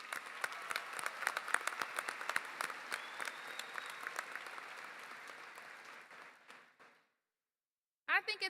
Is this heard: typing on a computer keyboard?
no